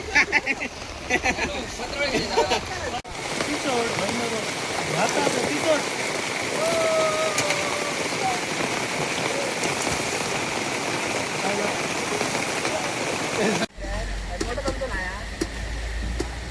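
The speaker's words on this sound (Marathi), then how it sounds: "अचानक गेलो पाऊस" Steady rain pours down, a dense hiss of drops on surfaces throughout, with people talking faintly in the background.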